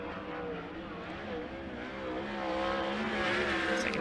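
A 410 sprint car roars past on a dirt track during qualifying: a steady, buzzing high-revving engine note that swells slightly as it passes, heard from some distance.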